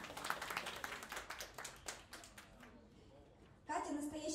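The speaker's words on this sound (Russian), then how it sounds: "Аплодисменты." A studio audience at a televised children's talent show claps, a dense burst of hand claps that thins and fades, then gives way to a sudden louder sound near the end.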